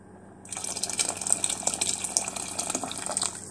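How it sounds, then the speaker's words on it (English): Hot water pours steadily into a pot of traditional Arabic grouts (hab) soup, a close, continuous splashing gush lasting about three seconds with no talk. "So we'll add about a cup of hot water."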